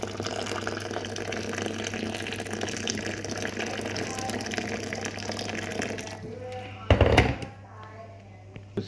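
Boiling water is poured from a kitchen vessel into a container while cooking, making a steady rushing gurgle that ends with a brief louder splash before fading.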